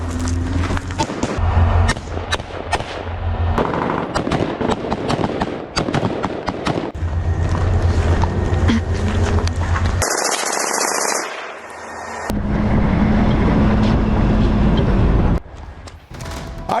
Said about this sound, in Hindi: गोलियों की आवाज आप सुन पाएंगे